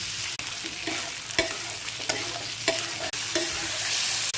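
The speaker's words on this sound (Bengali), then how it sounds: "দিয়ে দিলাম আলুগুলা, তেলে একটু ভেজে নেব।" Potato pieces fry with salt in hot oil, a continuous close sizzle broken by a few sharp stirring scrapes and clicks, with no voices.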